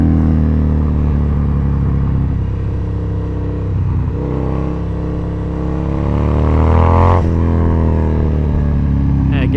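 A Harley-Davidson Sportster motorcycle with a chain kit revs and accelerates along a back road, a loud, close engine roar rising in pitch through the gears with wind buffeting.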